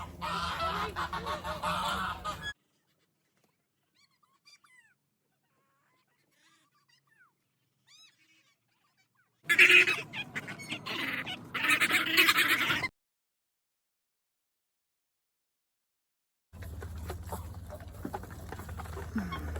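Turkeys gobble and honk in muddy farm bird pens, loud bursts of calling broken by long silent gaps, close by, with a person talking over some of it.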